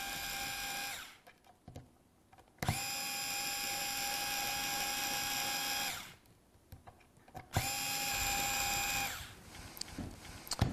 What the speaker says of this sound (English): It's okay to use a power tool when you're bringing the screws down